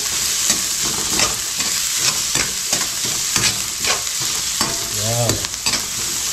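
Onions sizzle steadily in a hot pan while a utensil stirs and scrapes through them in repeated strokes, close and loud with no talking.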